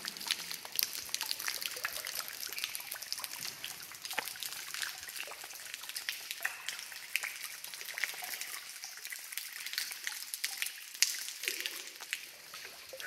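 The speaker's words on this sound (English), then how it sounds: "There's some more water dripping over here on this side." Continuous trickling and dripping water in a cave alcove with flowstone, a wet, hissy texture and scattered brighter drips, steady and moderately faint throughout.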